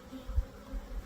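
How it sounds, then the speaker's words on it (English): Agitated honey bees at a hive during a fall inspection, a faint low buzzing drone that swells briefly a couple of times, no voices. "The bees are starting to get a little"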